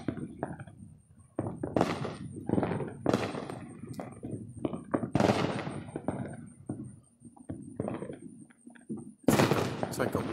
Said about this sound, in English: I have never heard fireworks like this.